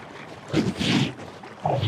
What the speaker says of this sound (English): My kayak is just too wide to get through that gap. So there's a lot of boat scraping